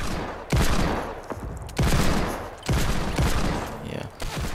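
Desert Eagle pistol shots in a video game crack out loud and close, about four heavy blasts at uneven intervals, each with a booming tail, plus quieter handling noises between.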